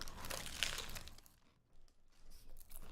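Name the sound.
paper food wrapper crinkling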